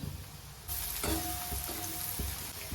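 Onions sizzle steadily in a hot pan as they are sautéed, a close, continuous frying hiss with a few stirring scrapes and no talk.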